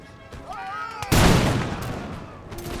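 A musket volley from Minutemen in an American Revolution strategy game, one sharp loud blast with a rumbling tail, preceded and followed by faint background tones.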